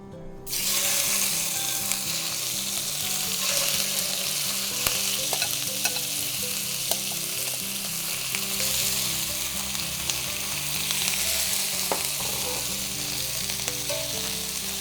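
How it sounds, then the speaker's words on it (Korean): Raw bulgogi beef sears on oil in a preheated stainless steel pan with a loud, constant sizzle. Occasional stirs and clicks of the utensil cut through over about fifteen seconds, with no talking. "예열이 끝나고 오일이 어느 정도 열이 올라가면 이제 생고기를 여기다 바로 구워 줄 거예요"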